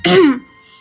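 A person gives one short, sharp throat clearing, close and loud, then it fades into a quiet room. No speech is heard.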